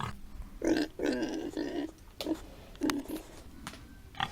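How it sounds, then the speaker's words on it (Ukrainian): A young domestic pig grunts close by in a string of short, throaty bursts, some in quick runs and some spaced apart, with faint background noise between them and no voices. "Свиня це домашня або свійська тварина."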